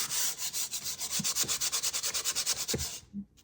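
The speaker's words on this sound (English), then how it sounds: "I'm using 100 grit to get everything that's really rough smoothed out" Rapid rhythmic strokes of 100 grit sandpaper rubbing back and forth on window wood, a close, fairly quiet scratchy hiss repeating about every tenth of a second, then stopping at the end with no voices.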